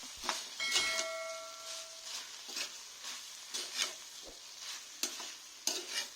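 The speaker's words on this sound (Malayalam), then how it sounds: "ഇനി ഫ്ലെയിം ഓഫ് ചെയ്തിട്ട് ജസ്റ്റ് ഒന്നെല്ലാം മിക്സ് ചെയ്ത് കൊടുത്താൽ മതി" Meat and onions are mixed in a pan with the flame off, a steady close scraping stir with soft residual sizzle and a few sharp utensil knocks, no talking.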